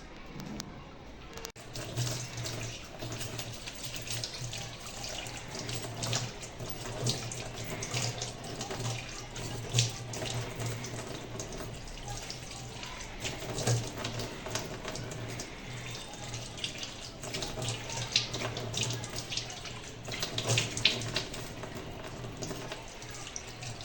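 Tap water running into a sink while a face is washed by hand, a steady close stream with irregular splashes and sloshing for over twenty seconds.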